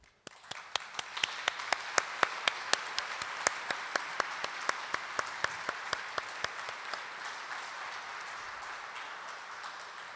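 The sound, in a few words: audience applause for speaking competition finalists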